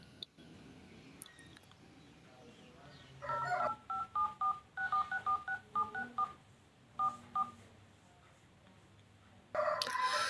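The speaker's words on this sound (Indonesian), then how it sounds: "Nada tombol nomor" An Infinix Hot 10s phone plays dial pad key tones, a quick series of short beeps tapped in an irregular rhythm, clear and close against a quiet background.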